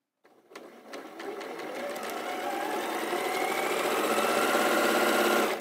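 A sewing machine chain-pieces four quilt block pieces in one continuous run, its motor whirring steadily and growing slightly louder for about five seconds, close and without talk.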